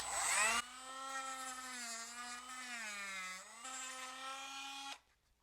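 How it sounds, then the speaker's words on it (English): A rotary tool whines at a high, steady pitch that sags and rises as the sanding drum loads against a model aircraft tail feather part, rounding it, then cuts off abruptly. "And then we'll take the sanding drum and I'm going to round this."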